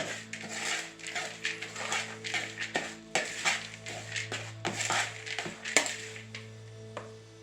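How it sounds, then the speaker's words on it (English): Walnuts tossed with sugar in a bowl produce quick, irregular clinks and scrapes of a utensil against the bowl, fairly faint and close, in a busy stirring rhythm. "We're going to mix that up."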